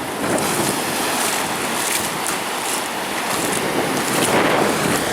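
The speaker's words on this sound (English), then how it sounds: "Still got some good sized waves." Gulf of Mexico surf washes onto a warm-water beach in a steady, loud roar of breaking waves mixed with heavy wind buffeting the microphone, with no voices.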